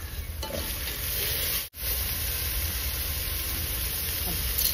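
Tomatoes dropped into hot oil in a pan for a home-cooked kuzhambu sizzle and fry with a steady, dense hiss, with brief stirring scrapes and one short pause partway through.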